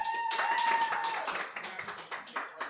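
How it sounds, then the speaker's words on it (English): A small audience at a live recording in Bordeaux Wine Bar claps for a guest called up to the microphone. Scattered, fairly quiet claps thin out and fade into a few separate slaps by the end. "A round of applause, people"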